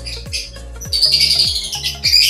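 Hen and rooster kept in a cage give short clucks and chirping calls, close and fairly loud, repeated several times over steady low background noise.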